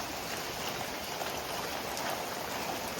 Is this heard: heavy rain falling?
yes